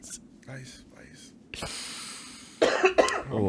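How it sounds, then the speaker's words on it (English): A person coughs during a casual podcast conversation: a few close, harsh coughs separated by breathy, throaty sounds and short pauses. "I keep coughing."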